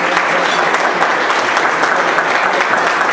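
A council meeting audience gives dense, even applause, loud and close, a steady wash of many hands clapping throughout with no voices over it.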